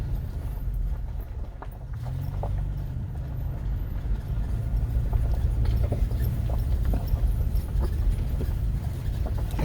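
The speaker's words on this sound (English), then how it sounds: "And we run into horses again." Horses walk along a trail, their hooves giving soft, irregular clip-clops under a steady low rumble of outdoor background noise.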